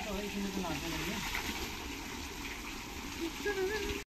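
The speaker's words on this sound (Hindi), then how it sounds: "ये कुछ पहाड़ से अपने आप ही पानी गिर रहा है" Hot spring water flows out of a hillside along a road in the Chambal valley, a steady distant gushing rush that fills the background, with faint voices and brief tonal sounds over it.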